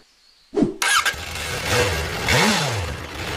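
A motorcycle engine cranks and catches after a brief silence, then settles into a rough idle with a couple of rising and falling revs, close and fairly loud.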